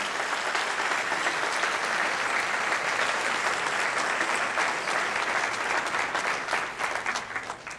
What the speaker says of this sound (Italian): E facciamo un altro applauso.